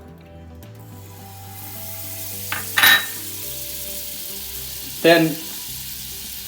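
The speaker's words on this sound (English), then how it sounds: "heat the frying pan over a medium heat. Then I'm going to add olive oil and half amount of butter into that." Butter and olive oil heating in a frying pan give two short, sharp sizzling bursts over a quiet low hum, with a brief spoken word near the start.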